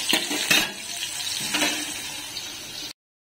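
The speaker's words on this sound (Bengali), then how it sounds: "তো ততক্ষণ পটল ভাজাটা হোক" Pointed gourd (potol) frying in a pan, a steady close crackling sizzle with a few sharp clinks of a utensil against the pan, with no talk before it cuts to silence.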